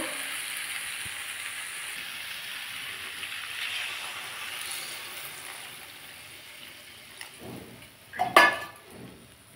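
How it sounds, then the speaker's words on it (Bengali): Water poured into a pan of sizzling chara pona fish curry with potato, beans and lentil bori: a steady low sizzle runs throughout, then a brief, loud splashing hiss near the end. "আমি এর মধ্যে এবার জল দিয়ে দেবো।"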